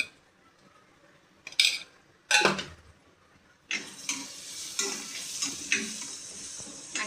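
Cluster beans sautéing in a pan with salt and turmeric: a steady frying sizzle with sharp stirring scrapes and utensil clatter, loud bursts of scraping among quieter stretches, no talking.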